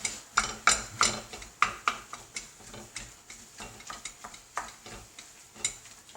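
Minced meat frying in a pan, stirred with a utensil that scrapes and knocks in a quick, regular rhythm over a soft sizzle; close and alone with no talk.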